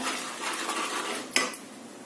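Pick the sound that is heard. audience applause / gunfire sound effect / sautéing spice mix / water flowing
sautéing spice mix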